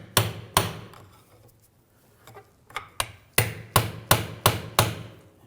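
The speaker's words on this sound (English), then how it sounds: "Now underneath the axle, I'm just going to take a pry bar. Give it a tap, just try to break it free from the differential." A pry bar taps against a 2007-2013 BMW 328i rear axle to free it from the differential: two sharp metallic knocks, a pause with faint clinks, then a rapid run of five or six loud, evenly spaced strikes close by.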